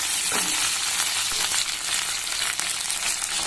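Spices, chillies and vegetables sizzle steadily in hot oil for a Rayalaseema-style sambar, with a continuous close crackling hiss and a few brief stirring clinks, no voices.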